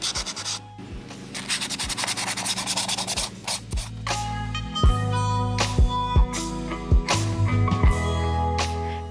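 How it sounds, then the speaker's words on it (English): Fine 220 grit sandpaper rubs over a painted, textured surface, fast rhythmic scratchy strokes at first, then slower separate passes with sharp ticks, close and clear with no talk. "I'm just using some fine 220 grit sandpaper"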